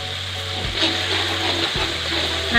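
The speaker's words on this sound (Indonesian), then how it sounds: "Sekarang tinggal kita tumis bumbunya" Ground spice paste sizzles steadily in a hot pan, a continuous close frying hiss with a low hum beneath and no voices.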